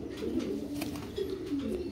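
Pigeons coo softly and steadily in a low, rolling murmur, close by, for a brief moment.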